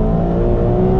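A Ferrari 812 Competizione with 819 horsepower accelerates hard in race mode on open road, its engine a loud, close, continuous roar throughout the brief burst.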